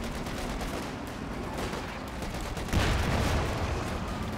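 Dense gunfire and explosive tank shell impacts in the World War II strategy game Company of Heroes 2, a continuous rumbling barrage of rifle and machine-gun fire with a heavier blast swelling near the end, no talk.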